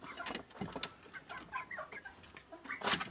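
Indonesian black chickens, a rooster and two hens, clucking in short bursts, with a sharper squawk near the end, fairly close and lively.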